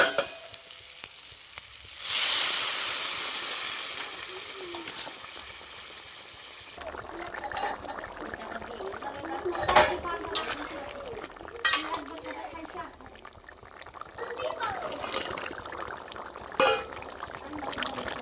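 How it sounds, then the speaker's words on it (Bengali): Water poured into a sizzling egg and lentil fritter curry: a loud hissing burst as the water hits the hot pan, fading into gentle bubbling with clinks and stirring scrapes, a voice talking over the later part. "এবারে জলটা দিয়ে দেবো।"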